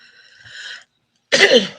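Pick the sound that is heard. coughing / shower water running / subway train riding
coughing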